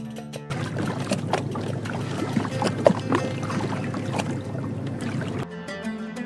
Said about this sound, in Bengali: পানিতে বৈঠার ছলাৎ ছলাৎ আওয়াজ